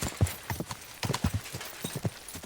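Video game horse hooves clip-clopping in a quick, uneven rhythm, close and fairly loud, with a few sharp clattering steps.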